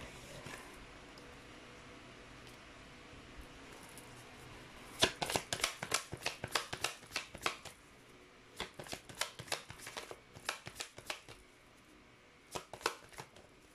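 Tarot cards are shuffled and pulled after a quiet stretch, giving close, crisp riffling bursts that come in quick clusters with short pauses between them.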